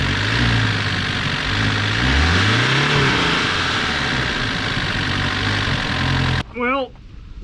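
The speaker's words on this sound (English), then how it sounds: "Let's give her some revs." A Mk1 Volkswagen Scirocco engine, mid-mounted, idles roughly and then revs up and down several times, loud and close, before cutting off abruptly into a brief squeaky tone.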